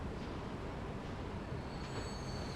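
A steam train in the simulation game Transport Fever 2 rolls along with a steady broadband rumble and faint wheel squeal, continuous and fairly distant, with no voices.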